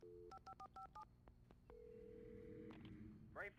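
A telephone in the video game Alan Wake, at a sheriff station: a quick run of touch-tone dialing beeps, then a sustained tone and a faint ringing or electronic warble, short and clean with little background.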